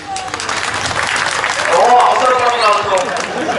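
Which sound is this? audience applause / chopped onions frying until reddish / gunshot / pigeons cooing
audience applause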